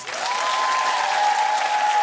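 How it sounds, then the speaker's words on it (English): Studio audience at a daytime talk show breaking into steady, dense applause, with a sustained tone from the studio running through it for the whole stretch. "Oh, keep clapping."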